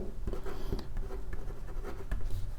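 Writing on a board during a lesson on graph cut sets: a close, continuous series of scratchy strokes and light taps, irregular in rhythm, with no talk.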